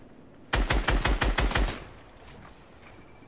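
A loud burst of rapid automatic gunfire in a video game, about seven close, evenly spaced shots in just over a second, then a fading tail with no talking.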